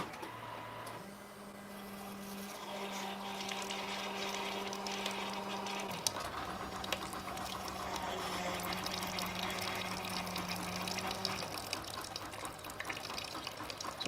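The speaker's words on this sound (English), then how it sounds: "the rinse cycle is rinsing your 2 mixer bowls out, as well as rinsing your brew chamber out with hot water" A de Jong Duke Virtu 90 series commercial coffee machine runs its daily rinse cycle, flushing hot water through two mixer bowls and the brew chamber: a steady mechanical hum with watery rushing and pump drone, continuous throughout with a shift in pitch midway.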